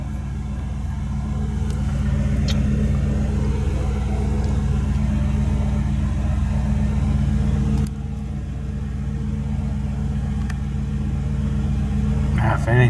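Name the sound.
car engine running after boiling gas fix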